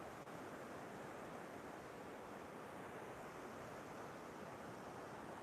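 Steady ocean surf washes onto Sam Roi Yot beach in Thailand at sunrise, a continuous broadband roar of breaking waves with a little wind, unbroken and fairly even in level throughout.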